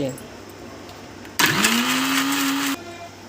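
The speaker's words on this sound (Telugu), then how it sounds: "ఇప్పుడు స్పీడ్గా బాగా మిక్సీ తిప్పుకోవాలి" A mixer grinder blending mango juice whirs into a loud, steady high-speed blend for over a second, then cuts off abruptly, with faint talk before it.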